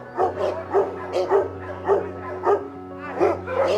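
A dog barks repeatedly in short, evenly spaced yips and woofs, close and fairly loud, over a low steady hum.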